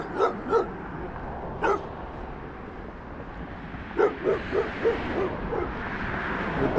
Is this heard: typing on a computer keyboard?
no